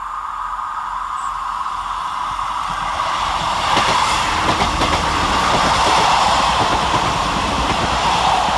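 A diesel passenger train, a pair of Class 158 units, rumbles through a station close by, its roar swelling as it passes with a broad rushing noise and rhythmic rattling of wheels over the track.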